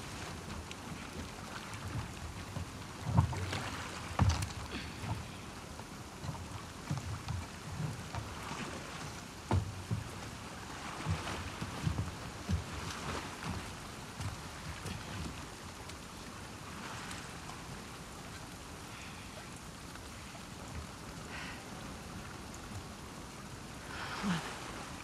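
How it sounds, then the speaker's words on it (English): Steady rain and wind in The Last of Us Part II form a faint, continuous wash of noise throughout, with scattered soft thuds and patters but no talking. "Get out of the rain."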